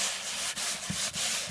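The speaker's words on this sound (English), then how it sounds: "this is just like a lighter sort of sanding" Steady rhythmic light hand sanding of a wooden cabinet with sandpaper, close and loud, with brief pauses between strokes.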